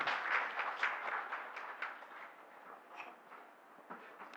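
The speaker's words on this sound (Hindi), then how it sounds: "Please give them a round of applause, everyone" Achievers are honored at a company foundation day ceremony with a faint, distant round of applause, scattered claps fading slowly over a few seconds.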